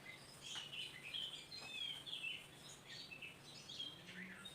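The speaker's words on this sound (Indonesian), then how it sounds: "jadi masih terdengar suara burung gitu. Nah, itu burung yang ada di pohon-pohon gitu ya teman-teman." Birds sing and chirp from the trees on a quiet morning, a scatter of thin high calls and short tweets repeating at a distance over faint background hiss.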